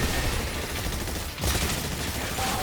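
Dense, continuous gunfire fills the ExoPrimal dinosaur-shooter video game, a rapid, noisy barrage with a brief dip and a sharp burst in the middle. No one talks over it.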